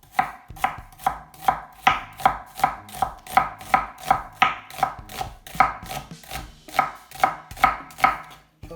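An onion sliced with a knife on a board, a brisk, steady run of crisp chopping thuds repeating about twice a second, close and clear, with no talking.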